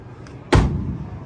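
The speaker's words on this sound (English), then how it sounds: "even when you slam the door" A Toyota 4Runner door, on a truck with cut-down bodywork, slams shut with a single loud, hollow thud that rings briefly afterward, heard alone without talk.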